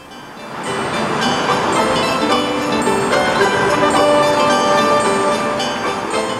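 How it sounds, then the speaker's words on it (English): Sleigh bells jingle continuously on a horse-drawn sleigh in Geauga County, a loud, steady shimmering ring over a rumbling, rattling run. "the sound of sleigh bells will again bring forth memories out here in Geauga County"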